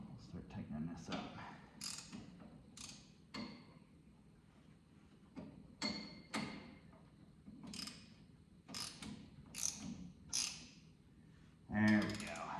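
A puller is tightened to free the steering wheel of a John Deere 420 garden tractor, giving a series of sharp metallic clicks and ratcheting creaks in irregular bursts, close by, with faint hand noise between them.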